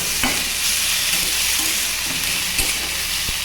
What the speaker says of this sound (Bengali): এদিকে আমি পালং শাকটাও একইভাবে সর্ষে ফোড়ন দিয়ে দিয়েছি। সর্ষে আর আদা ফোড়ন দিয়ে